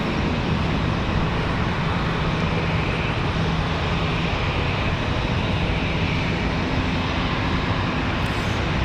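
A JetBlue jet departs Raleigh-Durham on a windy day, banking into an immediate right turn, its engines a loud, steady broadband roar that fills the whole stretch with no letup.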